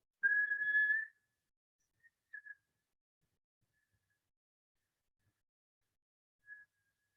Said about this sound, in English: We're going to whistle as you exhale.